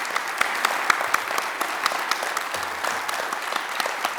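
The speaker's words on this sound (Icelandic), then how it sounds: "Skulum klappa fyrir þeim líka." An audience claps at a school graduation ceremony in a hall, dense steady applause from many hands filling the room without a break.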